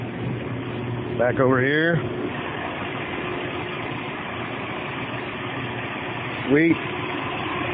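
A Casa Herrera heavy-duty corn grinder with its stones removed and a rebuilt motor runs with a steady, low mechanical hum throughout, while a person speaks briefly twice over the constant drone.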